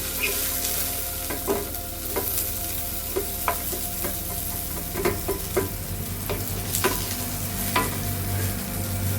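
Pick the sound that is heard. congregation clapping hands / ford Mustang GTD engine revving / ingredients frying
ingredients frying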